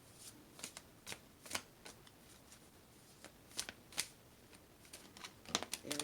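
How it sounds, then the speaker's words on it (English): Tarot cards being shuffled by hand, a series of soft, close riffling and slapping bursts at irregular intervals with quiet pauses between, clustering more densely toward the end; no one talks. "almost started shuffling the cards and didn't have all the cards"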